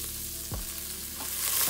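Kaffir lime leaves sautéing in a pan for a Sichuan tom yum hot pot, a soft, steady sizzle with a couple of brief stirring knocks, fairly quiet and free of talk.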